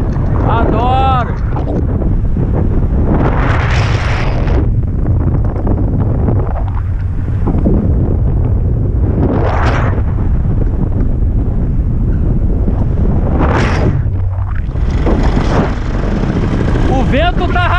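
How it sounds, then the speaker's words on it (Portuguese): Strong wind roars steadily through a flight, a dense, constant buffeting rush that stays loud throughout, with brief voices surfacing near the start and end. "O vento tá rasgando no povo."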